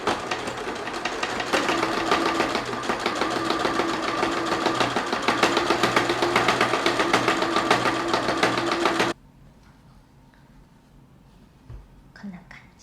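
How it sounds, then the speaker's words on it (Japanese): A sewing machine runs steadily and rapidly for about nine seconds while stitching light-blue patchwork fabric onto belt interfacing, then stops, leaving quiet room tone with faint handling sounds. "また水色の生地をここに中表に合わせて同じように縫ってきます"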